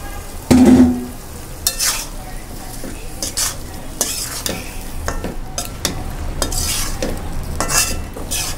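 Potatoes and beans for fish curry being sautéed in a pan, with a soft constant sizzle broken by repeated scraping strokes of a spatula, plus a brief louder clatter near the start.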